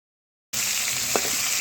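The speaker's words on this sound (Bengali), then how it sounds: "এরপর মাছগুলো দিয়ে দিচ্ছি ভাজার জন্য।" Fish frying in hot oil in a kadai, a sudden steady sizzle starting after a moment of silence and continuing close and even, with a brief clink partway through.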